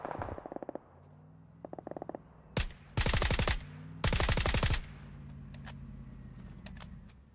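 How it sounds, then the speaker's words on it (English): Bursts of automatic gunfire in PUBG on console ring out in two long rapid volleys plus a short burst, loud and sharp against quiet ambient background, with faint distant pops before and after. "Someone was shooting at him over there"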